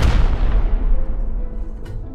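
Rockets from a rocket launcher explode in the Rust video game, a heavy close boom that rolls off into a long, fading low rumble with no talking.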